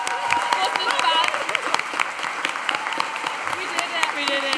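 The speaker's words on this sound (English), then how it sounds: "We all clapping." A graduation ceremony audience for the class of 2025 applauds in a dense, sustained clatter of many hands that continues steadily throughout, with a few voices mixed in.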